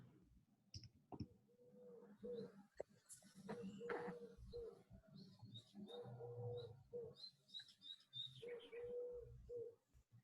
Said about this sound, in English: Is there like an owl in your garage or something?